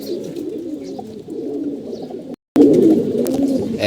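Healthy pigeons in a loft coo continuously, a dense low rolling chorus of many birds close by, broken only by a brief dropout before carrying on just as thickly.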